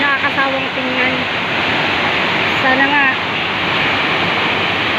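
Strong rushing waterfall at Wawa Dam in Montalban, Rizal, a loud, dense, continuous roar of churning water close by, with brief voices speaking under the steady torrent.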